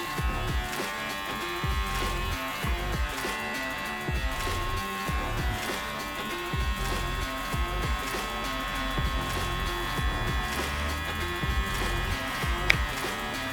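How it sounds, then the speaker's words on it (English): An electric hair clipper buzzes steadily while levelling a flat-top haircut, a loud, continuous close-up drone with a faint rhythmic rasp as it passes through the hair. "the clipper's going to cut it at its easiest"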